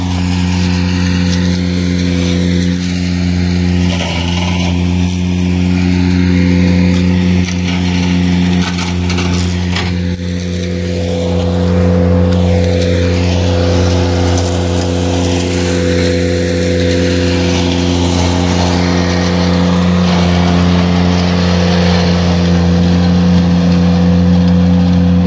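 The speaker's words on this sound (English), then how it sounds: "when you're mowing, you just go full speed" A Ventrac compact tractor's engine runs flat out at full speed while mowing, a steady loud drone with strong low harmonics that holds unbroken throughout, with no talking.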